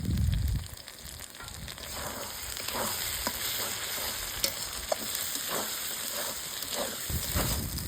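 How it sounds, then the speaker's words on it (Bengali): Turmeric, Kashmiri chilli powder and dried red chilli paste fry in a pan for Champaran-style handi chicken, giving a loud, steady sizzle and hiss with repeated scraping stir strokes close by and no talking. "এবার ভালো করে মশলাগুলো কিন্তু কষিয়ে নিব।"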